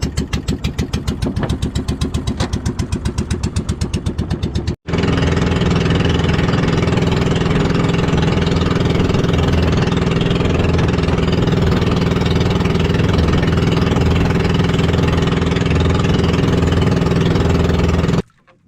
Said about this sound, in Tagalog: Paandar na tayo ng makina mga amigo.